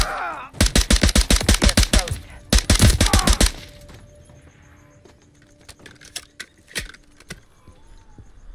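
Gunshots in Call of Duty Modern Warfare 3, two rapid bursts of automatic fire, loud and close, followed by quieter scattered clicks and faint distant shots.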